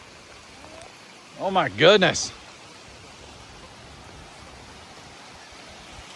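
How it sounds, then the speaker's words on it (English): Heavy rain falls on a farm near a chicken coop, a dense steady hiss that fills the whole clip, while a person briefly exclaims over it. "Oh, here comes the rain."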